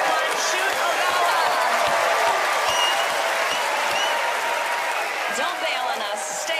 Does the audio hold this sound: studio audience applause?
yes